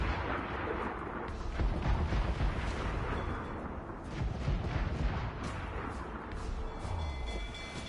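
Ship cannons firing in a naval battle game: a dense, continuous roar of heavy booms and rumbling blasts, loud and sustained throughout with no clear gaps.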